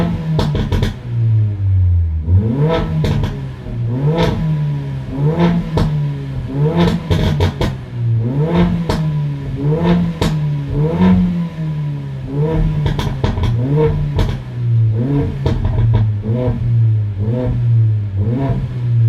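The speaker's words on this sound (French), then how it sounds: "Donc voilà ce que ça donne un peu le son du moteur." A Mercedes CLA 45 AMG engine revs repeatedly, rising and falling in quick rhythmic bursts with crackling pops between 3000 and 4000 rpm, loud and close throughout.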